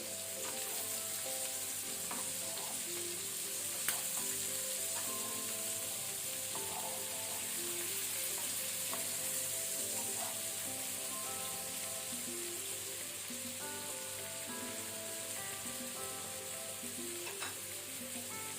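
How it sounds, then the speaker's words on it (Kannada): Sardine fish eggs frying in a pan over medium to high flame, a steady close sizzle with faint crackles continuing throughout. "ವಾಪಸ್ ನಾವು ಮುಚ್ಚಳ ಮುಚ್ಚಿ ಇದನ್ನು ಫ್ರೈ ಆಗ್ಲಿಕ್ಕೆ ಬಿಡುವ ಮೀಡಿಯಂ ಟು ಹೈ ಫ್ಲೇಮ್ ಅಲ್ಲಿ."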